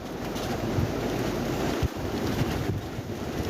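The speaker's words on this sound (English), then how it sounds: "the wind has picked up" Strong storm wind blows hard in the dark early morning during Storm Darragh, a dense, constant roaring rush with heavy buffeting against the microphone, loud and close, with no voices.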